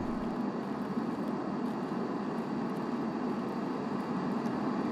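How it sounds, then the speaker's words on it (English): A steady, droning roar of an airplane passing overhead fills the woods map of a looting shooter, loud and unbroken, masking other sounds for several seconds. "Of course the fucking plane comes right now."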